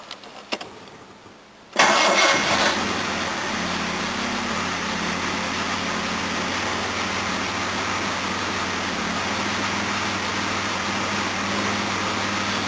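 A Jaguar XJ6 engine cranks briefly and catches, then settles into a steady, close idle that runs on alone with no voices.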